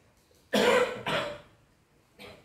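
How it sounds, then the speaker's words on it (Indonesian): A person coughs twice in quick succession, close and loud, followed by a softer third cough after a short pause. "batuk ini"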